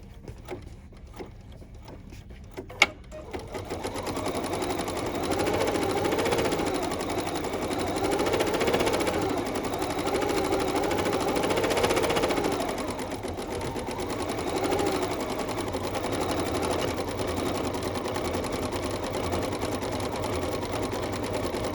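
An embroidery sewing machine stitches out a red glasses design on a bag for a vintage boardwalk project, a steady, rapid mechanical chatter running continuously at close range after a few short clicks at the start, with no voices.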